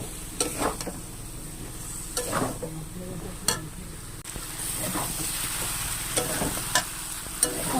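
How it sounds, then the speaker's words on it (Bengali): Spice paste for a traditional vegetarian pumpkin chhokka is sautéed with a splash of water in a pan, giving a steady, close sizzle broken by repeated scraping strokes of a spatula. "দিয়ে আমি মশলাটাকে ভালো করে কষিয়ে নেব।"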